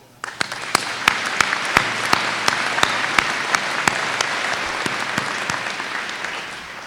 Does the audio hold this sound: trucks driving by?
no